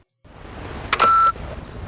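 Telephone dialing tones in a video game: a short burst of electronic beeps, including one sustained bright tone, sounds up close and clear, followed by a brief trailing beep.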